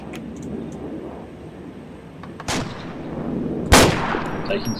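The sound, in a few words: gunshots fired in a tactical video game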